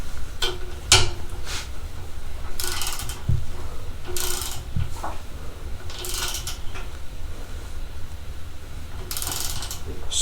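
A cordless 12V electric ratchet, either a Milwaukee Fuel or a Hercules, buzzes in several short bursts with brief pauses between them, fairly close, over a steady low background hum with no talking.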